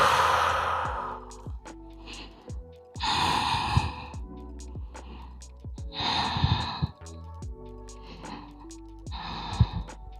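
Deep breaths during a yoga session while folding forward over the legs, with several slow, audible inhales and exhales spaced apart against quiet background music.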